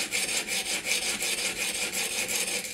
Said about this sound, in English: grind the new bevel on